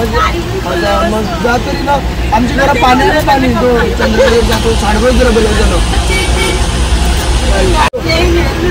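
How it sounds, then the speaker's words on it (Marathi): Dense road traffic jam on a highway stretch under roadworks during a Gujarat road trip, with a steady rumble of idling cars, buses and trucks under continuous crowd chatter. No distinct horn blasts stand out. "हा बघा समोरचा ऑपोजिट साईडला पण पूर्ण ट्रॅफिक झालं"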